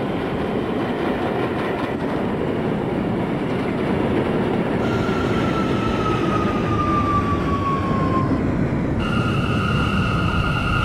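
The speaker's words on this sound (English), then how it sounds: "This is a Manhattan-bound J train." An R179 J subway train ride in the OpenBVE simulator game, heading toward Marcy Avenue: a steady, loud rolling rumble with high wheel or motor whines that rise and slide across the run.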